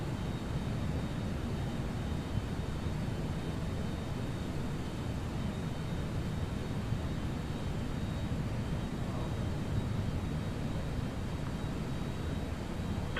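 A Toliss A321neo airliner takes off from Heathrow in the X-Plane 12 flight simulator, a steady broadband engine roar that holds at an even level throughout, with no voices.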